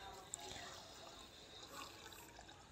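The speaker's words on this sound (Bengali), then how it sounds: "আমি এখানে জল দিয়ে দিলাম আর ভালো করে এটাকে ধুয়ে এটাকে ভিজিয়ে রাখবো" Water poured into a bowl of red lentils to wash and soak them, a faint soft trickle and splash with a brief drip, quiet and steady throughout.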